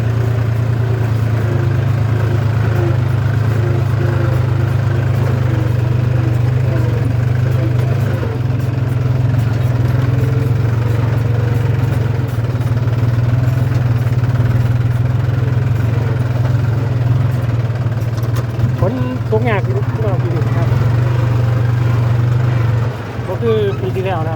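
A 5050E tractor engine runs steadily under load during tillage work, a loud, continuous low drone with clattering mechanical texture throughout and a brief rise in activity near the end.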